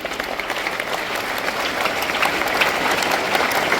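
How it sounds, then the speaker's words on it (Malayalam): Steady, dense clapping from a room full of students and teachers at a high school class assembly, loud and sustained throughout with no pauses. "നല്ലൊരു അഭിനന്ദനം നൽകിക്കൊണ്ട് നല്ലൊരു കൈയടി കൊടുക്കുക"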